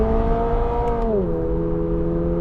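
Toyota GR86 engine pulling hard on a race circuit, a steady loud drone that drops in pitch partway through as the car shifts or lifts, then holds a lower steady tone.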